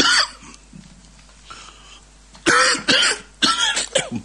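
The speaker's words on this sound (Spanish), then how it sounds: "Perdón, hoy tengo bastante tos." A person coughs in several harsh bursts after a quieter start, the last coughs coming in quick succession close to the microphone.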